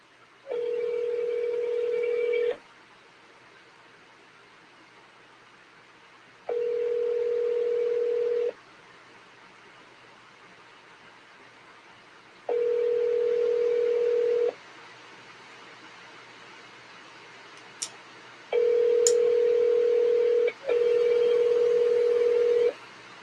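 A telephone call connects and rings back, giving four long even tones in a slow, regular rhythm with silent gaps between them, then a pair of tones close together near the end. Two faint clicks fall in the last gap, with no voices.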